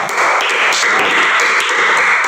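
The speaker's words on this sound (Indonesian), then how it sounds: "tepuk tangan buat kalian semua" Dense, continuous applause from a room of students clapping together, loud and close, sustained evenly through the whole short stretch with no voices rising above it.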